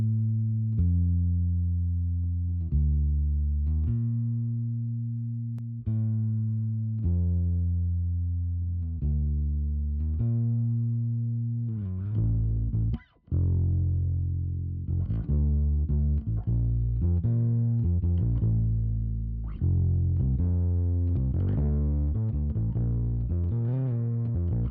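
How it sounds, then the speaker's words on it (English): Live bass guitar run through an S12X plugin emulating the SP-1200 sampler: a loud, buzzy, midrange-heavy bass line of sustained notes, then busier plucked phrases after a brief dropout midway, played alone without talk. "let's go ahead and listen to the S12X on a live bass guitar that I have"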